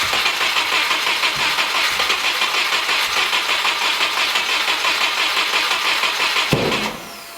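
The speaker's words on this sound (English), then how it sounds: "That was an exhaust backfire." A 600 hp Cosworth EJ257 Subaru Forester engine cranks in a long steady rhythmic starter churn, loud and close, ending in a sharp exhaust backfire pop before the noise drops away.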